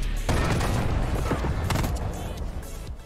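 Rapid, loud gunfire in Call of Duty Cold War, a dense booming burst of shots filling the whole moment with no voices over it.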